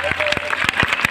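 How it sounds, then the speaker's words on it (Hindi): A school audience claps at an Independence Day event, with scattered sharp hand claps repeating over steady background murmur and a voice speaking through much of the short stretch. "अभी गलत जगह में तालियां बजा दी"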